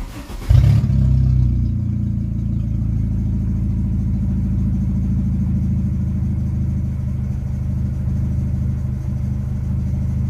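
A car engine, its timing belt due for replacement, bursts into a loud rev, then settles into a steady, heavy, rumbling idle that drones on close by without any talking.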